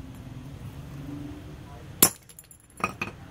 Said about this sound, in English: Going to be smashing this hummingbird